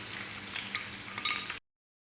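Onions stir-fry in hot oil for Hyderabadi chicken dum biryani, a steady close sizzle with scraping stirs and light clinks of a spoon against the pan.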